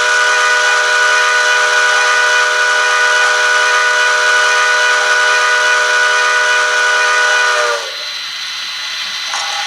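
A Bachmann HO scale Echo Valley Express model train DCC sound set gives a long steam whistle, one sustained loud tone lasting about eight seconds before cutting off. A faint hiss lingers afterward.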